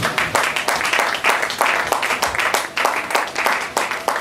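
A church congregation claps in a brisk, fairly regular rhythm, loud and close, with voices mixed in.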